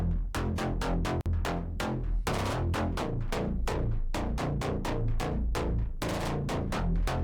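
A Serum synth bass line using the Synthstab preset plays a steady run of rhythmic, punchy stabbed notes with dense low harmonics. It is loud and upfront, with a brief dropout near the start and no voices.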